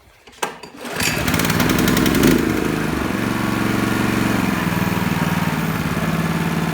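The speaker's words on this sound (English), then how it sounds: "Okay, the machine is running." A Honda snowblower engine cranks with a few clicks, fires up and settles into a steady, loud mechanical drone that runs on evenly, close by and without talk.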